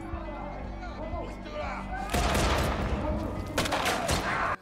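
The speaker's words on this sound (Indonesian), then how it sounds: "Sementara Harbir terlihat dalam baku tembak melindungi Eliza dan menembaki tentara bayaran tersebut." Gunfire rings out in a film firefight as a fighter shields a woman and shoots at mercenaries: a dense, loud barrage of overlapping shots and bursts that grows heavier and continuous in the second half, with voices mixed in.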